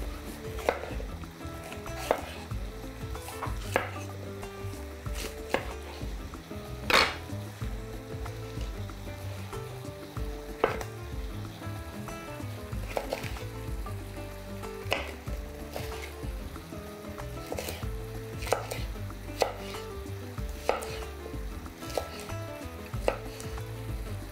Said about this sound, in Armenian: Սրանք էլ մանր կտրատում և ավելացնում ենք տապակի մեջ։